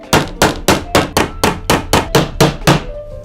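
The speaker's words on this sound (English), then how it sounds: "We want to make sure when we do hammer this on here that the angled tacks, they're angling out away from the project." Hammer driving a tack strip onto a wooden punch needle rug frame, heard as eleven close, loud, evenly spaced blows in quick rhythm, with no talking.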